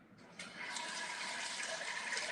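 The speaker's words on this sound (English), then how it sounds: "One thing I should probably do is start the spaghetti, the water." A kitchen pot filler tap runs water into a pot for spaghetti. A soft, steady gushing rush starts after a brief moment and continues evenly at low volume, with no talking.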